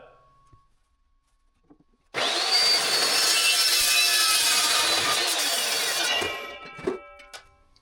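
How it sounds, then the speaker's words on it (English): A power saw cuts through a hollow metal fence post being used as a race car exhaust pipe, a loud steady grinding whine of about four seconds that starts abruptly and then tapers off, followed by a few faint clatters. "Little trade secret that both are hollow and pipe-like, and exhaust can travel through them. So let's cut it."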